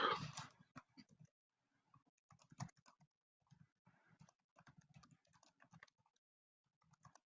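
Typing on a computer keyboard, quiet and close, with irregular clusters of key clicks separated by brief pauses.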